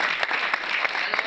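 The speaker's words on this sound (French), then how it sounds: "Je croyais qu'on allait applaudir" A brief, steady burst of audience clapping fills the room, with a few sharper individual claps standing out from the general wash.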